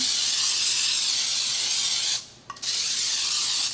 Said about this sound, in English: I'm just going to spray it down